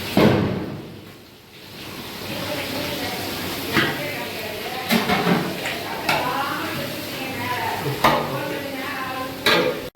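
Onions sautéing for biryani, a moderate sizzle broken by sharp spatula scrapes and knocks against the pan, with a voice talking over it.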